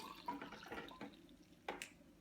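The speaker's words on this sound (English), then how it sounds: "water into the AeroPress and give that a stir for about 10 seconds." Hot water at about 80 degrees C is poured into an AeroPress coffee maker, a brief close splashing trickle with a few dripping spatters.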